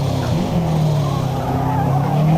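A race car engine in Forza Motorsport drones loudly and steadily, with tire squeal layered over the engine and no talk.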